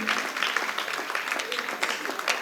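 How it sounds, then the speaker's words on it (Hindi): An audience applauds at a poetry recital, a steady wash of many hands clapping together for a couple of seconds, close and fairly loud. "तो ताली बजा कर दबा"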